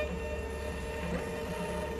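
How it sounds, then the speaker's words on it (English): A Dymo 4XL label printer runs a shipping label through in one steady mechanical whir and hum, close and even for the whole stretch, with no talking. "For this order, I've printed the label using the Dymo 4XL."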